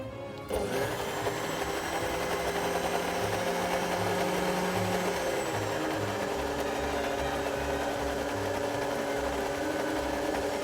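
Food mixer blending tomatoes in a home kitchen, switching on sharply into a loud, steady whirring drone that holds throughout, with the tone shifting slightly partway as the contents smooth out.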